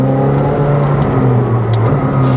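A McLaren 765LT Spider engine drones loudly and steadily, its low tone rising slightly as it accelerates, close and without any voices.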